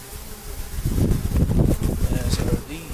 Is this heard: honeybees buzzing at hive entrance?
yes